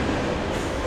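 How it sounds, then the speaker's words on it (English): A passing train gives off a steady, close, broadband rumble with no break, heard alone and without voices. "Apologize for the train, stupid train."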